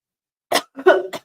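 A person coughs a few times up close, short rough bursts separated by brief pauses.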